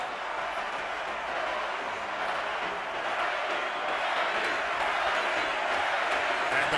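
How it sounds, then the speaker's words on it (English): A large boxing arena crowd at the Pacquiao vs. Margarito fight roars in a dense, steady wash of voices with no pauses, the individual chant lost in the continuous noise. "And the crowd picks up the chant."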